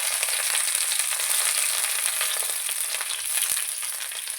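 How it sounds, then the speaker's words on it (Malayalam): Curry leaves fry in hot coconut oil in a pan, a loud, dense, steady sizzle and crackle heard up close without talk. "ചൂടായി കഴിയുമ്പോൾ കുറച്ച് കറിവേപ്പിലയും കൂടി ഇട്ട്"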